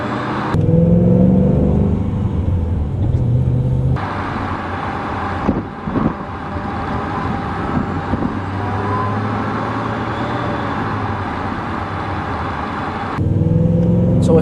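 A 900+ horsepower Shelby GT500 Supersnake drives from the inside, with a loud, continuous deep engine rumble and road roar that shifts in tone as it accelerates and changes gear.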